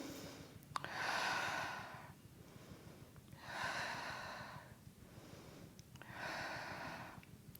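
Slow, deep breathing during a Pilates neck stretch, three long airy exhalations spaced a few seconds apart, close and soft, with quiet pauses in between.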